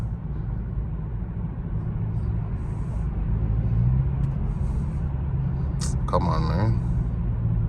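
A BMW 330i G20 accelerates in rush-hour traffic, its engine a low, steady rumble heard from inside the cabin that swells slightly midway, while a man mutters briefly and a short high electronic chirp sounds near the end.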